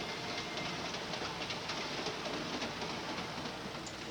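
A train runs along its rails in a 1946 film: a continuous rumbling, hissing wash of noise with faint rhythmic clatter, steady and fairly close, with no talking.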